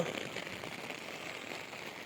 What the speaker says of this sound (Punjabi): ਸਾਡੇ ਤੇ ਪੂਰਾ ਮੀਂਹ ਪੈਣ ਡਿਆ ਜੀ